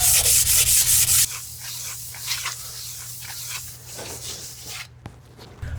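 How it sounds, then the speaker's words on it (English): An aluminum block being hand-sanded with emery cloth on a Jeep TJ transmission job: a loud rapid scrubbing burst, then slower, softer rubbing strokes at close range. "we're going to take this and just do some sanding on it"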